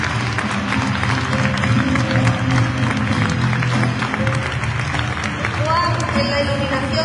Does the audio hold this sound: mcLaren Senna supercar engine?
no